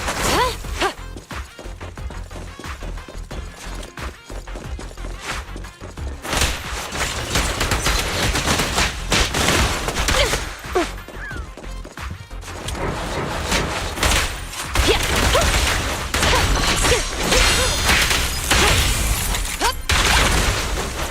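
Sustained gunfire in the video game Zenless Zone Zero: a dense, loud barrage of rapid shots, impacts and crashing hits continues almost without a break, layered over game music and effects.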